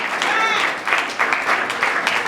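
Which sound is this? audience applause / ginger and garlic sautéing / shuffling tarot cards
audience applause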